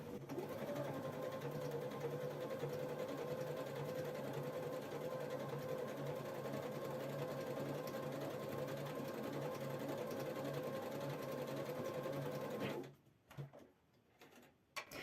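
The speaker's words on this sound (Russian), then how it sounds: "Подвожу ткань под лапку, совмещаю край с направляющей и прокладываю строчку" A household sewing machine steadily hums and clatters as it stitches an overlock-style edge seam on fabric, running evenly and close up for about thirteen seconds before stopping.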